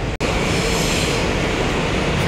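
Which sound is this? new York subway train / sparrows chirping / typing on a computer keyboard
new York subway train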